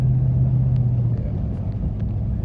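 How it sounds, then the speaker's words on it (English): Car driving on a highway toward Cape Breton, Nova Scotia, during a February snowstorm, with a steady low engine and road rumble filling the interior and faint voices underneath. "Driving on the highway towards Cape Breton."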